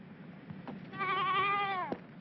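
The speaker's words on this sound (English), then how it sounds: "Cute little sheep!" A sheep in a movie scene lets out one drawn-out, wavering bleat lasting about a second, close and clear over a faint low background.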